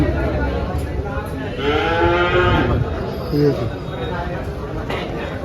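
A cow lets out a long, drawn-out moo nearby at a cattle market in Dhule, followed by a shorter call, with people talking and general bustle in the background.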